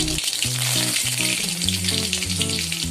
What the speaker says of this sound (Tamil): கருவேப்பிலை தாளிச்சிடலாம்.